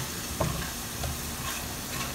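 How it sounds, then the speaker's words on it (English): Butter stirred into a thickened lemon cream sauce in a hot pan, a constant loud sizzle with soft scraping strokes of the spoon and no talking. "At this point of time, I will add my butter. One by one I have to add, and I'll stir this around."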